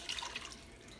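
Water being poured into a pot for a homemade chocolate espresso cake, a brief, soft splashing trickle close by that fades quickly, no voices.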